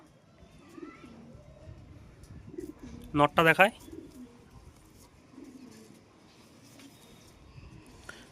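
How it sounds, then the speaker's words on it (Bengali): Punjabi pigeons at a pigeon sale, a short burst of loud, close cooing midway under quieter surrounding sound, with someone talking nearby. "এটা ধরা পাঞ্জাবি কবুতর"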